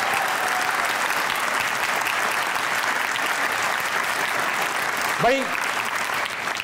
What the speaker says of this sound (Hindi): एक बार जोर से तालियां बजाइएगा क्योंकि आप लोग मौजूद हैं हंसना मना है में